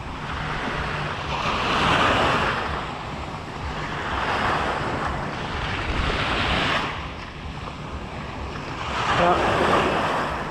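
Ocean surf rolls in on Fort Lauderdale beach, broad washes of breaking waves swelling and fading every few seconds, with wind buffeting the microphone and no voices.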